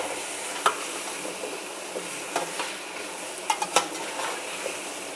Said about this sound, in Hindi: अब बस ये सारा मसाला भुन जाएगा